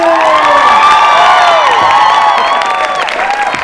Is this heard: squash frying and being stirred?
no